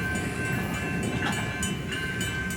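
Union Pacific locomotive UP 8860 slowly leads an outbound manifest freight train past Baseline Road, a steady, loud rumble of engines and rolling cars with no voices.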